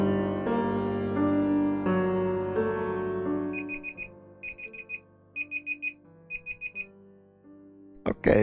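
Repeated bursts of a timer alarm beep in quick groups of about four, loud and close, following a stretch of steady humming tones, with a brief clatter at the end.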